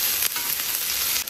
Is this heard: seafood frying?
yes